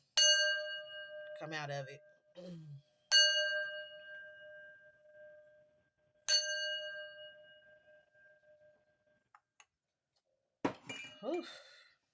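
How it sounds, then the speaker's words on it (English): A small bell struck three times, each ring clear and bright with a long fading tail, plus a few soft clinks and brief speech between strikes. "Let me hit my bell, y'all."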